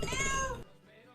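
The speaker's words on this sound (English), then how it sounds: "Was that a cat?" A cat gives one drawn-out, wavering meow lasting about half a second, clear and moderately close indoors, followed by quiet room tone.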